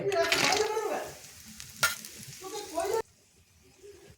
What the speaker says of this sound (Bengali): তেলটা এখানে গরম হয়ে গেছে তো প্রথমে কি করব এখানে বড়িগুলো আমি সুন্দর করে ভেজে নেব